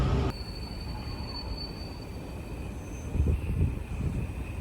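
A metro train creeps forward at a crawl along the track, a low continuous rumble with faint rail noise that swells slightly toward the end, heard from nearby with no talking.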